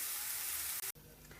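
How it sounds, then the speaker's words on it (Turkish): A steady, close sizzle of chopped peppers sautéing in oil hisses throughout, with a brief break near the end before the sizzling resumes. "Doğramış olduğum biberlerimi de ilave ediyorum ve aynı şekilde kavurma işlemine devam ediyorum"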